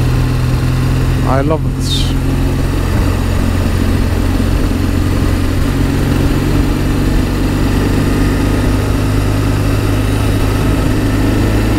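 A motorcycle carrying a rider and passenger cruises along a popular village route in Greece, its engine a steady, close droning hum throughout, with a brief voice heard over it early on.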